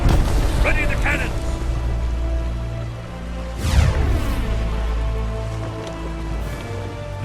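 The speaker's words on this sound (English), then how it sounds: "Ready the cannons!" Deep booming cannon blasts in the video game Sea of Thieves, one heavy impact standing out midway, over a dense rumbling bed with music-like tones and scattered crackles.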